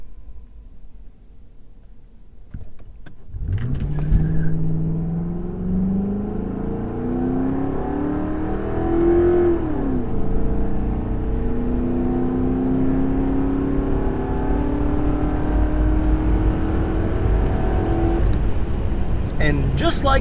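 A 1970s luxury family sedan, roughly two tons, pulls hard from a standstill, its engine rising through the revs, shifting once, then climbing again in a long close roar.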